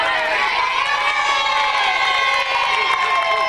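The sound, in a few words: big crowd cheering at an egg-throwing contest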